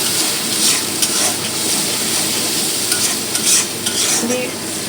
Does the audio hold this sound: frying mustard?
yes